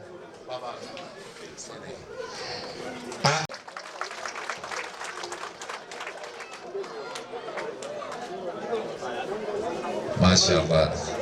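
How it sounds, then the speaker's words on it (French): Crowd clapping and murmuring at a religious conference ceremony in Guinea, with a sharp burst near the start and a swell of applause toward the end amid voices. "Applaudissez, s'il vous plaît."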